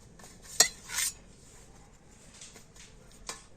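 A knife clinks against a plate as it slices a carrot pitha, giving a few sharp metallic taps and a short scraping sweep, close up and otherwise quiet.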